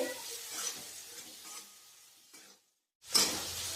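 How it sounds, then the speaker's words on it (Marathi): Finely chopped tomato sautés in a pan over medium heat for mix bhaji. Quiet, close stirring scrapes and a soft sizzle stop briefly into silence, then return louder. "आता आपल्याला टोमॅटो छान परतून घ्यायचा आहे"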